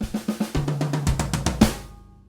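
Afro-Cuban style drum crescendo fill moving across snare, toms and floor tom, a quick run of about a dozen strokes building in loudness and ending on one big snare hit that rings out.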